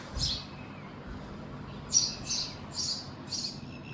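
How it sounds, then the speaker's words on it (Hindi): Birds chirp outdoors in short, bright bursts, one early and then a run of four spaced calls, set against a quiet background with no talking. "अभी ये चिड़ियों की आवाज़ देखिए आप कितनी आ रही है"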